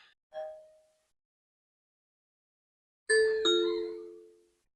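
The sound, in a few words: Wyze doorbell chime announced by Amazon Assistant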